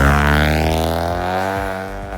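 A 2008 Honda Civic FD with a full exhaust gives a loud, close rev whose pitch falls as the engine spins down, ending in a brief rumble with no talking.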